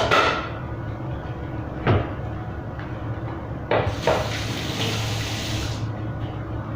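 Water runs steadily into a kitchen sink during cleanup while cooking, a continuous close hiss with a couple of sharp clunks from dishes or the basin partway through.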